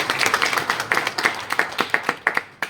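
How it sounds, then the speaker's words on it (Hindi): Audience clapping to welcome a new committee at an Ambedkar memorial welfare society event, a sparse, uneven patter of distinct claps from a modest crowd, close and fairly loud, with no talk. "इस नए कमेटी का आप सब तालियां बजाकर स्वागत करें"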